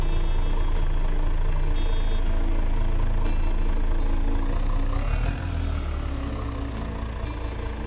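A simulated diesel inline-six engine in the Automation car game runs at a steady low idle, loud and droning, with a brief shift in pitch partway through.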